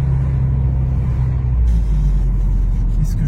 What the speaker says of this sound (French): C'est une vraie voiture de sport.